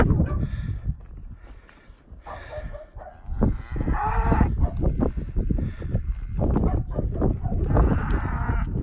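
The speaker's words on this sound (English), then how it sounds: "Here's my cows." Cattle moo on a farm while eating hay, several drawn-out lowing calls close by, mixed with rustling, shuffling and a person talking.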